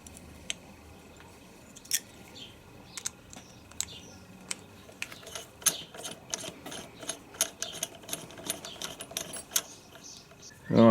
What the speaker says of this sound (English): get this lined up with A, which means that that piece is going to push that rivet straight through